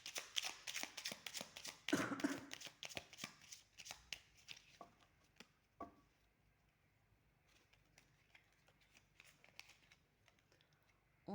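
Oracle cards are shuffled by hand in quick flurries of riffling, papery slaps, busy and close at first, then thinning to sparse soft taps and quiet pauses, with no talking.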